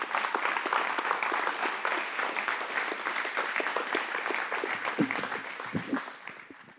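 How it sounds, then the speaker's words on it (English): A seminar audience at a live deadlift event in a strength training gym claps for guest lifters, a dense, even round of applause that holds steady and then tapers toward the end. "Let's give them a round of applause."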